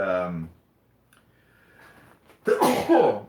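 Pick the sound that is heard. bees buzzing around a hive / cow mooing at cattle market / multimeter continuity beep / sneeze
sneeze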